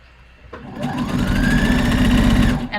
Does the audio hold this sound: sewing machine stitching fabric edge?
yes